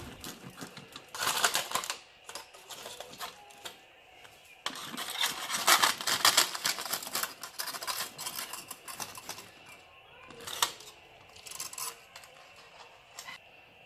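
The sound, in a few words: knife cutting BBQ naan bread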